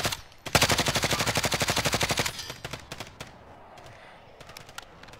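Rapid automatic gunfire from the video game Call of Duty Modern Warfare bursts in a fast, loud string of shots lasting about two seconds, followed by scattered fainter shots and ambient game noise.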